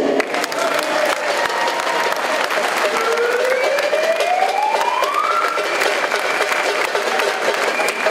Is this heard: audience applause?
yes